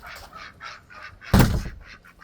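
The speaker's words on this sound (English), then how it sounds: "There's the duckies." Several ducks quack outdoors in a snowy yard, a steady run of nasal calls in short repeated bursts. A louder, rough thump or rustle breaks in near the middle, and no one speaks.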